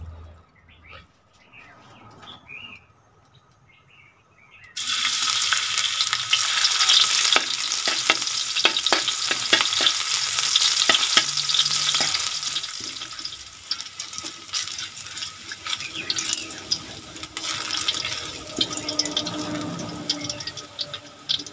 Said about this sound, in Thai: จาวด้วยกระเทียมนะครับ